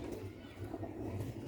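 Low, rolling coos from a colony of pure black-faced Sialkoti pigeons carry on steadily at close range, moderately quiet, with a faint voice in the background.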